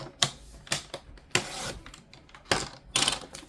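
Paper planner inserts are trimmed in about five crisp, quick cutting strokes, each a sharp close rasp separated by brief pauses.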